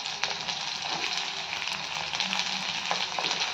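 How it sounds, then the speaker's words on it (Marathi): Capsicum and onion sauté in a pan with a steady, fairly quiet sizzle and occasional soft stirring scrapes. No one speaks over the frying. "शिमला मिरची कांद्यासोबत थोडी परतून घेऊयात"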